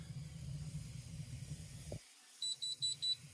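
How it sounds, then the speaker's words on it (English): During a brisket cook on an Old Country Brazos smoker with a heat baffle mod, a steady hiss cuts out, then an alarm gives four quick high-pitched beeps in an even rhythm. "Alarm going off again"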